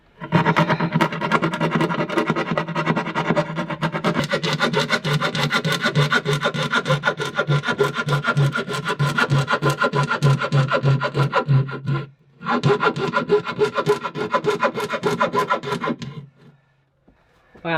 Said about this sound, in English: This is the handsaw that I wanted to use this entire time.